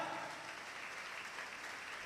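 A church congregation clapping at a sermon, faint and distant, a short steady patter of many hands.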